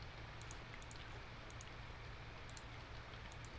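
Steady, even rain falling in the video game Finding Paradise, a constant wash of drops at moderate level with no breaks and no voices.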